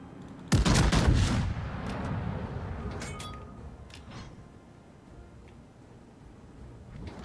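Warship guns fire in World of Warships aboard the Schlieffen, opening with a loud close burst of heavy gunfire that booms and rolls into a long rumbling decay, with a few fainter shots afterward.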